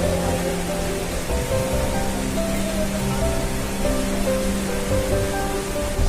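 Water pouring down at a Kolli Hills waterfall, a dense continuous rushing roar that stays steady and fairly loud throughout, with no voices over it.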